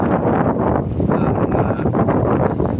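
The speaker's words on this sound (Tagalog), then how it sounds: "medyo mahangin ngayon dito sa Pantalan" Steady, blustery wind at a harbor buffets the microphone with a continuous low roar, gusting slightly throughout and no voices.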